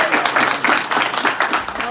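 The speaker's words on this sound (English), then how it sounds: "let's give a round of applause for Corey" Dodgers FanFest audience applauding baseball player Corey Seager, a dense, loud wash of many hands clapping continuously for a couple of seconds.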